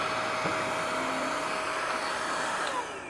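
A Thomson Cycloflex V2 stick vacuum cleaner runs with a steady airy whine and hum, fairly quiet and continuous, and fades slightly at the end.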